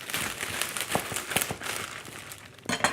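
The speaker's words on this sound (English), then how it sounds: "So I'm going to cut this bag open, and hopefully cut this bag open." A plastic bag of grass-finished New Zealand marrow bones being cut open, giving a close, steady crinkling and rustling with a few sharper crackles near the end, no talking.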